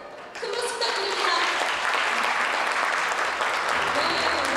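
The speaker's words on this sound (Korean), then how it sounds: "새해 큰 박수 부탁드립니다." Loud, dense crowd applause fills a stage unveiling at a Gyeonggi Province New Year event, rising sharply after a brief quiet start and holding steady, with faint voices mixed in.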